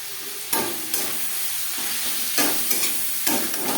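Salt and turmeric being stirred into onion, tomato and garlic frying in a pan for jackfruit-shrimp curry, a continuous sizzle punctuated by several sharp scrapes and knocks of the spatula.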